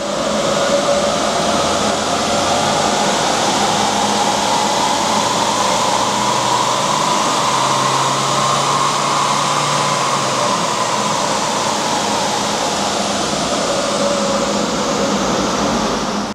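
A tuned turbocharged car, fitted with a BRD intake pipe and a new engine map, runs on a dyno with a loud, steady roar that holds for the full sixteen seconds, no voices.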